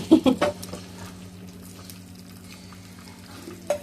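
A piece of food fries in a pan with a soft, continuous sizzle. A few sharp clinks and scrapes of utensils come at the start and again near the end.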